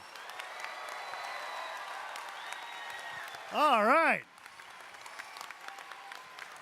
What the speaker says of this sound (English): give a real round of applause for all the volunteers today